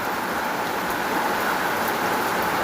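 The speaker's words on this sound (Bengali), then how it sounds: "দেখো কতটা পরিমাণে মুষলধারে পুরো বৃষ্টি হচ্ছে।" A heavy monsoon downpour in Basanti hisses as a dense, unbroken roar of rain on surfaces, loud and close, with no voices over it.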